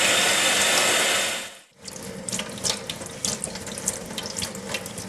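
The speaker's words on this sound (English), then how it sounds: "And I'll wash that out with cold water." Cold tap water rinses a solarplate printing plate: a steady rush of running water, then a brief break before gentler, uneven splashing and brushing resumes at close range.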